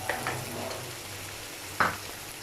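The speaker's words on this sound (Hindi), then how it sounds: "ये ऐड करने के बाद मैं तकरीबन 2 मिनट तक इसको दोबारा फ्राई करूँगी" Chopped tomatoes frying in a pan for egg curry, a low steady sizzle with a couple of light early taps and one sharp utensil clink near the end, close and quiet, no speech.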